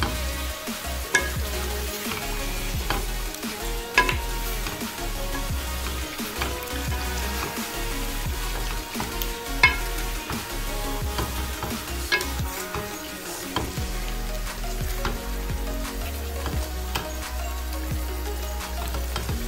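Yogurt masala being fried for nihari in a pot, a dense continuous sizzle with frequent spoon stirring and scraping, close and loud with no talking.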